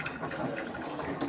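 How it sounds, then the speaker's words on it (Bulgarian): Water swishes inside a washing machine as it rinses the clothes, a gentle steady churning with soft irregular sloshes at close range and no voices. "И сега вече много хубаво ги изплаква водичката."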